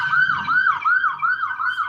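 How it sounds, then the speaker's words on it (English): An ambulance siren wails in a steady, rapidly repeating up-and-down yelp, loud and close, alone with no talk, as emergency vehicles pass by on the road. "Y'all gonna keep getting the sirens and the warnings"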